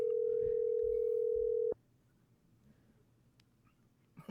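A telephone line sounding a steady, loud tone for under two seconds during a call that goes to voicemail, then cutting off abruptly to a quiet line with faint clicks.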